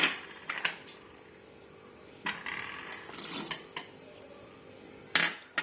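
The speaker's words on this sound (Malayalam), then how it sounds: "ഞാൻ ഇതൊക്കെ ഈ മിക്സിയുടെ ജാറിൽ ഇട്ട് കൊടുക്കാണ്." Garlic, ginger and peppercorns dropped into a steel mixer grinder jar, giving several sharp clinks and rattles scattered between quiet pauses, close by and fairly faint.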